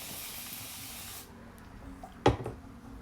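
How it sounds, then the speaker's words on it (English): A spray bottle mists a section of hair during braiding and twisting prep: a steady hiss for just over a second, then quiet with a brief knock of handling. "So we're going to spray this section."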